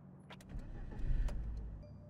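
A BMW engine starting in the City Car Driving game: a quiet starter whir swelling into a low engine rumble, faint and brief, with small clicks at the start and end.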